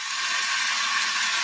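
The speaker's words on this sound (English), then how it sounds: "That's the sound of extremely tender and delicious beef from certified Piedmontese." Certified Piedmontese beef sizzling in a hot pan, a steady hissing crackle heard close and alone for a brief moment.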